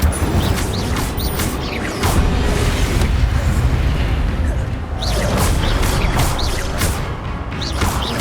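Spell-casting combat in Hogwarts Legacy with the Incendio fire spell, loud booming bursts and crackling whooshes that recur every second or two over a busy game soundscape.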